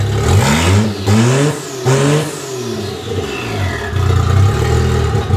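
A 1JZ engine in a Toyota Supra revs hard several times in quick succession on its first start-up, pitch climbing and falling with each burst of throttle, loud and close.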